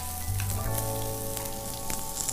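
Chopped onions sizzle and fry in a hot pan for a coastal village-style fish curry, giving a steady, close crackle that runs unbroken throughout with no voices.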